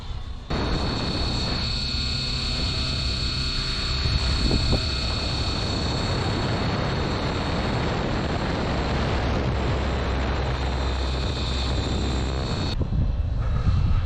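An RC helicopter flying at speed gives a loud, continuous whining drone of engine and rotor that holds steady for several seconds and then cuts off abruptly near the end.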